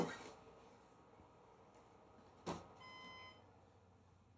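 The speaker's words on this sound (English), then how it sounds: "my UPS power supply beeping at me, which usually means the power is out." A UPS power supply emits a faint electronic beeping tone in a short series after a soft click during a power outage, thin and high against a quiet room hum.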